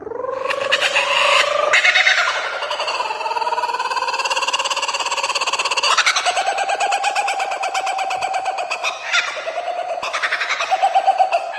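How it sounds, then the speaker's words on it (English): A kookaburra's call, a loud, close run of harmonic, cackling hoots that rise and fall in bursts, heard alone for about twelve seconds. "È un kookaburra."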